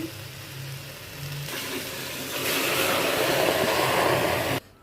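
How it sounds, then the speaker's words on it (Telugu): Water pours into a pressure cooker holding greens from the farm field, a steady splashing stream that grows louder midway and cuts off abruptly near the end. "ఆకులు వేసుకొని నీళ్ళు వేసుకోవాలి"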